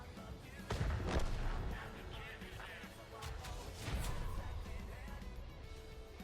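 Gunshots in a competitive shooter match, a few quick cracking bursts standing out from a busy bed of game sounds, moderately loud and fairly close, with no one talking.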